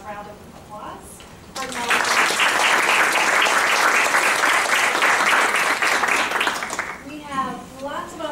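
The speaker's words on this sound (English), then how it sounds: "so please help me give a round of applause" Audience at a university College of Education event breaks into loud, sustained clapping that swells after a short spoken lead-in and fades back into talk.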